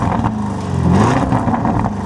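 A Lamborghini Urus engine revs loudly up close, its deep growl swelling through the middle and holding steady as it settles.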